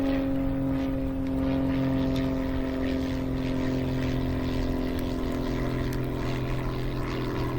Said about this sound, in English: It's a one engine! That might be a Cessna.